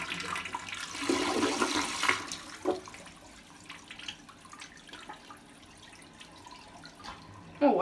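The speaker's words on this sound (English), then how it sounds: "I guess we'll give the toilet a flush in this one." A hotel bathroom toilet at a Residence Inn in North Portland flushes with a loud rushing surge of water close by, then the sound drains away into gurgling and trickling refill.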